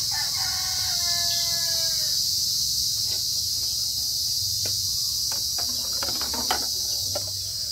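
Insects shrill steadily in the open air at night, a dense high drone with rhythmic chirping, while a rooster crows faintly early on and scattered clicks and knocks sound nearby.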